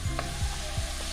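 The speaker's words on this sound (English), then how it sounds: "Stir it up." A spoon scrapes and stirs curry through bean katogo in a pot, with a few soft swishing strokes over a steady low simmer, close and brief.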